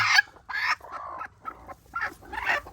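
Hens in a coop giving a handful of close, irregular clucks and throaty calls with short gaps between them.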